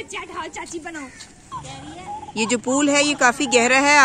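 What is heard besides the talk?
wild birds calling around a village pool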